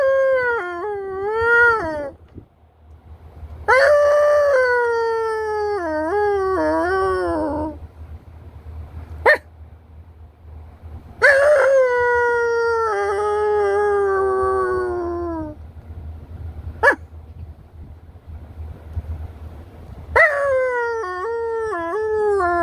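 A dog howls in long, wavering, rising-and-falling cries, several drawn-out howls separated by short pauses, loud and close, with a few sharp yips between.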